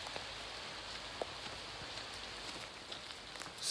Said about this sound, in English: it is an absolute torrential downpour